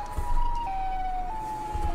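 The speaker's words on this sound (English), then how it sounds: "Oh no, it's a siren." Siren Head's wailing siren from a short film: a steady, loud tonal wail that holds a pitch and steps downward in a few abrupt jumps, with a low rumble beneath and no talking.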